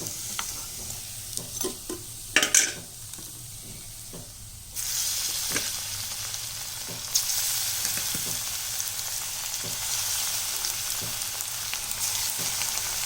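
Snack batter deep-fries in hot oil with a loud continuous sizzle and crackle that swells partway through, and a few stirring clinks come near the start.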